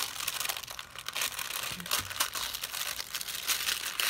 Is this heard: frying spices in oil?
no